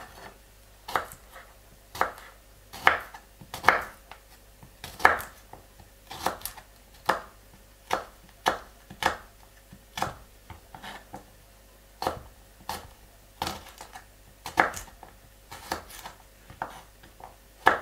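A knife chops garlic on a cutting board with about twenty crisp, evenly paced knocks, close and clear, with short pauses between some strokes and no talking.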